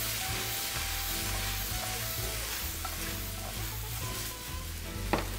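Steady loud sizzling from rice in a hot pan with white wine, with scraping and stirring sounds throughout and an occasional sharp clink near the end.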